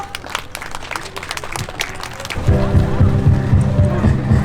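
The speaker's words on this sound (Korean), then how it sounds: "여러분 뜨거운 박수로 맞아주세요" An audience claps and cheers to welcome student performers at an outdoor civic culture festival for peace in a border region; the dense applause gives way to loud music starting midway.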